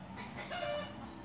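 Chickens cluck softly in a brief, low burst, somewhat distant, with no voices.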